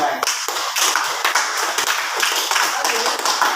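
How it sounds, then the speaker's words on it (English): A classroom of students claps together after a group activity, a brisk patter of many hands with a few sharper taps standing out, fairly close and continuous across the few seconds. "Applause to you guys."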